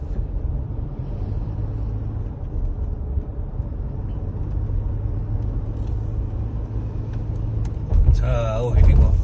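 Toyota Fortuner VRZ GR 2.8 taking a hairpin corner at about 60 km/h, a steady low engine and road rumble from inside the cabin with people talking over it, louder bursts near the end.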